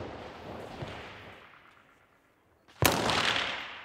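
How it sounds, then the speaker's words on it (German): Single rifle shots crack out outdoors in the mountains at Mittenwald, Bavaria, spaced a couple of seconds apart, each followed by a long rolling echo. "3 Schuss, Einzelfeuer."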